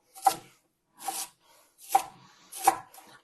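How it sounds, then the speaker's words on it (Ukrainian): A knife chops through a quarter of pickled cabbage on a board in four separate close, crisp strokes with short silent gaps between them, no voices. "Мені потрібна буде сьогодні уся капуста, тому я ріжу і цю чверть."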